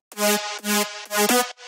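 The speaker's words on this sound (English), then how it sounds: "it's just a classic saw lead" A bright, buzzy sawtooth synth lead layer plays four short staccato notes, dry and up close, the last one sliding briefly in pitch.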